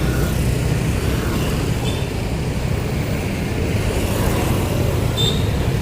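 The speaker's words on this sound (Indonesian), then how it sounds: "karena banyaknya motor berlalu lalang." Steady dense roar of many motorbikes streaming past on a busy road before Lebaran, continuous and loud with faint horn-like tones rising briefly above the traffic.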